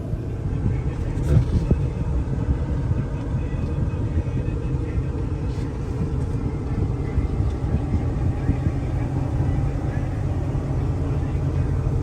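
A 1975 Ford Thunderbird cruising on the road out of town, a steady low engine and road rumble throughout, heard from inside the car with no breaks.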